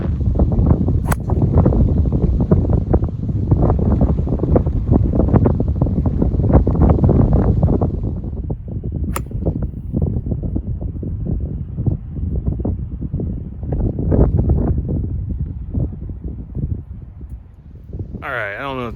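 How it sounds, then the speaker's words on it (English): Strong, steady wind roars over a microphone on an open golf course, a loud, broadband rumble that persists for the full length and eases slightly partway through. "This wind is crazy."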